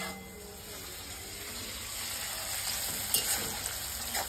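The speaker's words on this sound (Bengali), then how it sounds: "পেঁয়াজটা ভাজা হয়ে গেছে" Onions frying in a pan in a home kitchen, a steady, fairly quiet sizzle with occasional stirring clatter and no voices.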